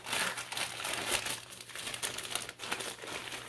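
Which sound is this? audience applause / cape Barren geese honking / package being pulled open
package being pulled open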